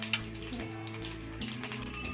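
A spoonful of mustard seeds crackles in hot oil for a khandvi tempering, a quick scatter of light ticking pops over a low, steady background, faint and with no voices.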